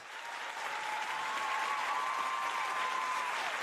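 Sustained audience applause following a performance at a peace festival celebrating husbands and wives, a dense steady clapping wash that swells in and holds for several seconds with a faint tonal hum beneath.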